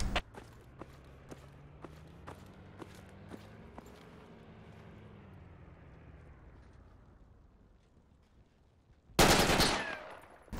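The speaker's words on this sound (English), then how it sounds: "Who was that shooting?" Rapid gunshots in the military shooter game Project Reality, a string of sharp cracks spaced about half a second apart, fairly distant, followed by a quieter stretch and then a sudden loud burst of noise near the end.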